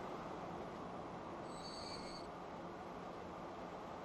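Trains running in the railway simulation game Transport Fever: a steady rolling rail rumble with a brief high wheel squeal in the middle, heard alone at a moderate distance.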